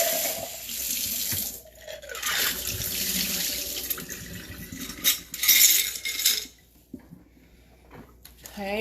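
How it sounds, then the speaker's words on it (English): Dishes being rinsed under a running kitchen tap, water gushing and splashing steadily with faint clinks of dishware, the flow dipping and surging as items are moved, then fading near the end. "I'm just going to do one final rinse to make sure I don't have soap on there"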